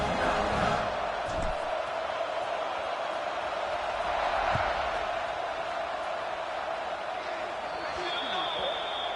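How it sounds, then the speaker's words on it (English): Dense stadium crowd buzzing in a college football video game, a steady loud roar of many voices with a few thumps and swells, continuing evenly throughout with speech mixed in. "this crowd is buzzing after that last score"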